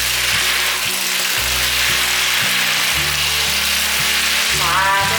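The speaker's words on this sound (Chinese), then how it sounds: "把调味料炒均匀" Shiitake mushrooms being stir-fried with black and white pepper, rose salt and soy sauce, a loud continuous sizzle with rhythmic stirring knocks of a utensil against the pan.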